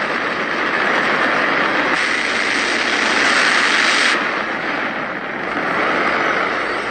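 A hydrogen-fuelled rocket engine roars at launch: a loud, continuous, broadband rumble that holds steady for about seven seconds, swelling slightly in the middle, with no voices.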